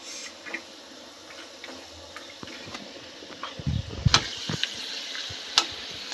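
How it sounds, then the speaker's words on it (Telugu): About a cup of peanuts frying in a pan, a quiet sizzle with scattered rattling and scraping knocks that grow louder and busier partway through as the nuts are stirred, close with no talk. "దీంట్లోనే నేను 1 కప్పు వరకు పల్లీలు వేయించుకుంటున్నాను."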